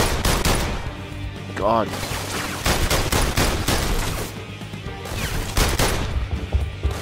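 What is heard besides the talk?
gunfire in video game PlayStation VR Worlds The London Heist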